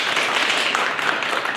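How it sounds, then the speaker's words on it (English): Audience applause, a steady wash of many hands clapping at moderate loudness for a brief stretch, with no break or voice over it. "Round of applause, folks."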